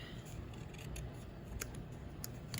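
Scissors snip a Hobonichi Cousin 2024 cover to trim off a small excess edge, giving a few quick, close, soft cuts over a low background hum.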